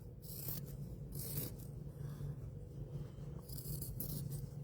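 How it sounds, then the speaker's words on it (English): Scissors snipping through a folded length of fabric, cutting two layers at once, with a few brighter crisp snips among steady low scraping and rubbing, close and moderately quiet, no talking. "So I'm cutting it on the fold of the fabric."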